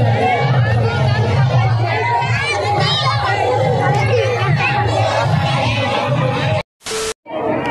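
A large crowd of devotees leaving a katha gathering in a Delhi park makes dense, loud hubbub of many voices, with shouts and chatter close around, cutting out abruptly near the end.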